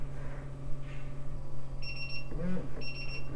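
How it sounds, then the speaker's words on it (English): Carbon monoxide detectors (Tocsin3, Sensorcon and Forensics units) sound sharp high-pitched electronic beeps in two short bursts over a constant low hum, with a brief rattling noise between them. "Tocsin3 started beeping. So as the Sensorcon and all the three units actually started beeping."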